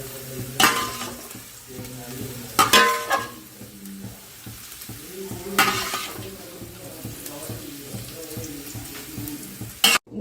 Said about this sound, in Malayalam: നെയ്യ് ചൂടായി ഇതിനകത്തോട് നമ്മളിപ്പോൾ അരി ചോറിട്ടു